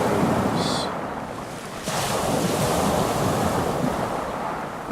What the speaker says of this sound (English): you can hear the lapping of the ocean waves